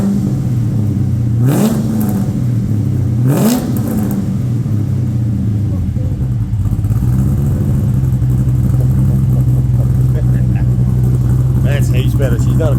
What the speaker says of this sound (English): I'll have to rev it